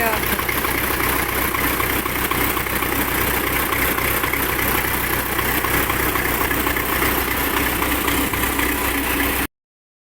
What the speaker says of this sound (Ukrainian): Вже трактора завели.